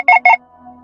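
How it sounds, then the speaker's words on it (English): A Google Chrome notification chime on a computer plays as two quick, bright tonal blips in succession, loud and close, followed by a faint lingering tone. "Can we turn off notifications over here"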